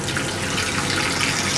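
Hot water runs steadily from a kitchen tap into a bowl while a soufflé is being made, a continuous close splashing rush with no talk over it.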